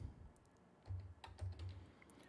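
A few faint keystrokes on a computer keyboard enter switch configuration commands on Dell OS10 virtual network appliances, heard as quiet scattered clicks over low background hum.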